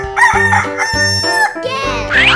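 A rooster crows loudly up close, a long drawn-out cock-a-doodle-doo with strained, wavering tones and a rough clucking finish.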